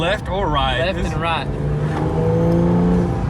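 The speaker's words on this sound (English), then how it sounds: "Dang, it like opens up the exhaust." Cadillac CT5-V sedan accelerating with its exhaust opening up, a steady engine drone rising under a person talking close by throughout.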